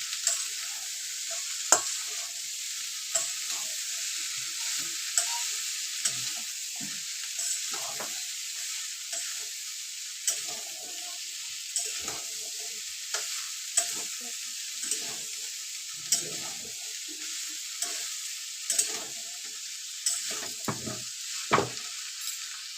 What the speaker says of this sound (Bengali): মশলার সঙ্গে লতিটা মিশিয়ে নেব